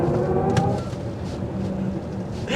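Artificial drive sound of a 2023 BMW iX xDrive50i in sport mode: a steady, smooth synthetic hum with a low tonal drone, heard from inside the cabin while it accelerates, fairly loud and without talk.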